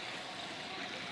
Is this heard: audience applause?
no